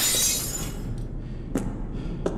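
Glass shattering in a video game, a loud bright burst at the start followed by a few sharp, brief cracks, over a steady low background hum.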